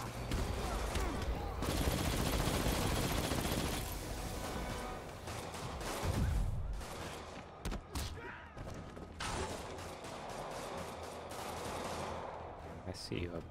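Dense, rapid minigun fire rattles in long sustained bursts in the video game Spider-Man, mixed with thuds, mechanical clanks and other combat noise, loud and continuous through most of the stretch.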